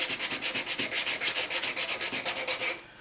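A wooden hand plane body is filed and smoothed by hand, producing a close, rhythmic rasping of quick back-and-forth strokes that stops near the end.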